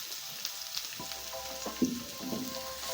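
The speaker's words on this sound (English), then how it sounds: "I'm going to be adding some oil just to fry my onions, and then I'm going to add in my onion." White onion fries in oil, giving a soft, close sizzle. Brief clatters from a utensil or stirring sound over it.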